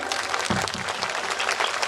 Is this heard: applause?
yes